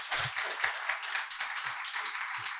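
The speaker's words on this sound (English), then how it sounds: "Give them a round of applause," An audience at a talk gives a round of applause, a steady patter of many hands clapping at moderate distance for a few seconds.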